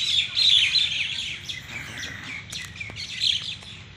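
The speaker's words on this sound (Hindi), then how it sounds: "कितनी सारी चिड़िया हैं भाई।" Many small birds chirp and tweet in a garden in Ashok Vihar Phase III, a dense, continuous chorus of bright overlapping calls with no talking.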